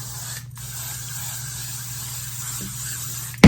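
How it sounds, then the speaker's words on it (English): Freeze hair spray hisses from an aerosol can in one steady, close burst lasting a few seconds, ending with a sharp click. "But now I just take my freeze spray"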